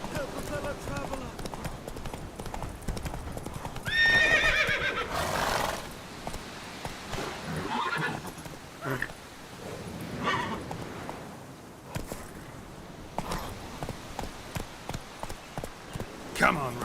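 Roach the horse in The Witcher: Wild Hunt neighs loudly amid clip-clopping hooves during gameplay, with a voice talking over parts of it and game ambience around.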